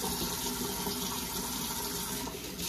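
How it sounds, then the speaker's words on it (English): Water splashes and runs steadily at close range as a face is wetted for a wet shave, a continuous sink-side wash with no voices. "So I'm gonna go ahead and wet the face here."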